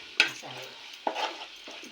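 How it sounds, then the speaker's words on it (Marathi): Onion and curry leaves sizzle in oil with chili and garam masala for a crab curry, with sharp spoon-against-pan stirring strokes at intervals over a constant frying hiss. "तिखट मसालो आणि गरम मसालो अशी फोडणी मस्त की पडलेली असा"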